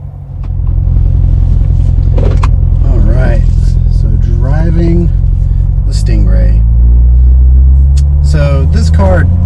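A C7 Corvette engine revving and driving, with a loud, deep, continuous exhaust rumble that swells and settles through the whole stretch while someone talks over it.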